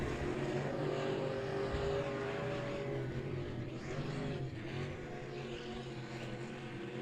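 Several dirt track race cars roar together at the start of a 100-lap enduro weekly race in Monett, a dense, steady engine drone that stays loud and continuous throughout, with no talk.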